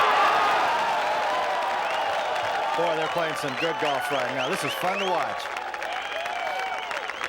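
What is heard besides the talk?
golf tournament crowd cheering and applauding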